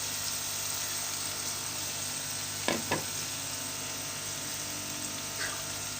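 Whole spices and biryani masala fry in hot oil for chicken biryani, giving a steady, even sizzle throughout, with a couple of brief stirring clatters partway through.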